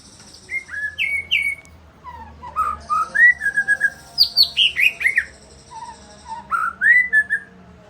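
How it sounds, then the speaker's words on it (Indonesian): Birds singing near a joglo house in Indonesia, a close, clear run of bright whistled phrases and chirps in short bursts with brief pauses, alone with no talking. "Bagus suara burungnya teman-teman."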